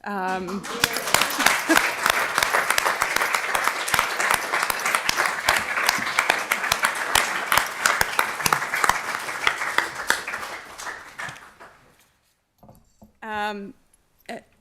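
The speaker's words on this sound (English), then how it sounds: "this is the time where we clap" Applause for newly sworn-in councillors at an inaugural council meeting: a crowd claps steadily for about eleven seconds, then the clapping fades out and a voice begins speaking.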